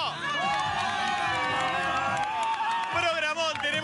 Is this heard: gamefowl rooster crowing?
no